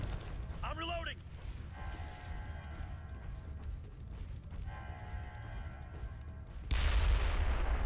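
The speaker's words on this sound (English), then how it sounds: "Whoa, random explosion." A sudden loud, broadband blast bursts in near the end, following a stretch of Ghost Recon Future Soldier game combat noise with a brief whistling sweep early on.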